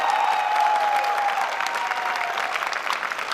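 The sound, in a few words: audience applause at a welcome party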